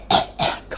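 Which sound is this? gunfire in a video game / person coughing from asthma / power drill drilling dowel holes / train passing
person coughing from asthma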